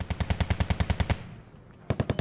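BRDM armoured car autocannon firing in Wargame: Red Dragon, a rapid even burst of about a dozen loud shots, a short pause with fading echo, then another quick burst.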